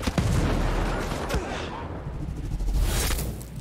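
Rapid gunfire in the tactical shooter Ghost Recon Breakpoint, with loud repeated shots and booming bursts in a dense, continuous barrage that stays strong throughout.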